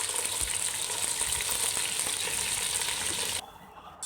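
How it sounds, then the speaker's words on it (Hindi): Chicken pieces fry in a couple of spoons of oil with browned onions for a chicken pulao, making a dense, steady hiss of sizzling that drops off sharply just before the end. "जब ऑनियंस ब्राउन हो जाए तो उसमें चिकन डाल दें।"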